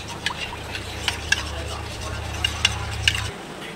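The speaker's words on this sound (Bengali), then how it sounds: "এবার আমি চামচ দিয়ে সব কিছুকে ভালো করে একবার মিশিয়ে নেব।" A spoon stirs a mixture of soy sauce and tomato sauce in a bowl for spicy KFC-style fried chicken, giving soft, repeated scraping and clinking taps over a low steady hum, close and fairly quiet.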